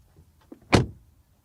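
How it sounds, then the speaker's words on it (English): A compact luxury car's rear door shuts with a single solid, heavy thud, close and fairly loud, preceded by faint small clicks in a quiet setting. "Let's take a quick look at the door shutting sound."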